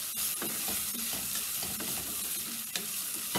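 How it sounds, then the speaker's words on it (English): Sliced onions and dried guajillo chilies fry in a soup pot, a steady close sizzle with intermittent spoon stirs and scrapes across the pot, no voices. "These onions are going to cook. They're going to get nice and clear, and these chilies, these guajillo dried chilies, are going to get nice and bright."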